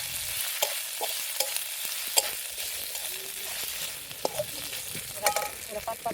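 Chili with ground coriander and fennel sautéing in a pan, a soft steady sizzle broken by scattered scraping stirs and small clinks, close and without talk.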